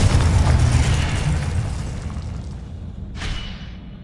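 Spell blasts including Confringo burst and boom in combat in the Hogwarts Legacy video game, a loud rumbling opening that fades, then one sharp crack.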